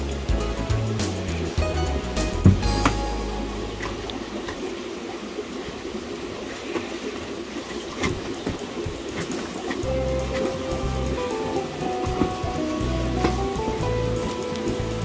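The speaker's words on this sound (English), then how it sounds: "it's gonna be driven by this 1 inch round air stone here" A 1 inch round air stone bubbling in a 100-gallon stock tank set up for freshwater prawns. Steady, close gurgling and churning water rushes continuously, with brief louder splashes early on.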